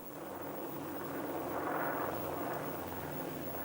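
Japanese warplanes fly over Pearl Harbor during the December 1941 attack, a steady broad engine roar that swells slightly in the middle and holds without a break.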